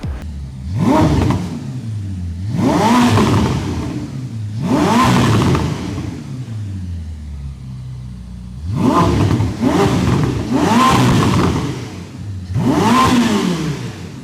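A Ferrari SF90 Stradale turbocharged engine revs hard five times in a row, each burst climbing in pitch and dropping back, loud and close.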